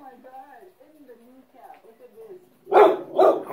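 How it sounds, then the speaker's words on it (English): A person talks, then a dog gives two loud, close barks in quick succession. "dog growling at something over there"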